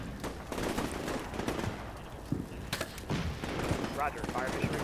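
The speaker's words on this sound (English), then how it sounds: "Sniper team from first platoon, still putting fire into the Polytechnic across the way there." Gunfire from a sniper team in the military game Combat Mission Shock Force 2, shooting at a polytechnic building during an urban ambush; sharp shots and bursts of fire ring out repeatedly over a steady battle din, with voices in the mix.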